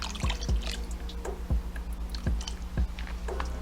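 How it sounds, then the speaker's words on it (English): Lemon juice, a couple of tablespoons, spooned into a bowl of cut potato wedges sitting in water, giving a series of about six distinct close drips and plops over a steady background hum. "we're gonna add some lemon juice, okay? Just a couple tablespoons to do it."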